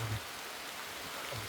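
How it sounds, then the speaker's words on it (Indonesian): Steady rain falls outdoors, a dense, even hiss of drops on surfaces with no talking. "Langsung hujan, ya."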